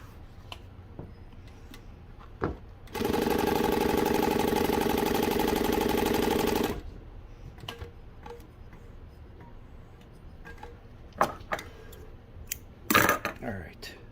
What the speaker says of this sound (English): Let me get a new piece of material. So let me sew again.